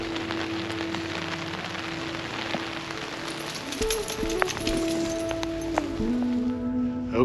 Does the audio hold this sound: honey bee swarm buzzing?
no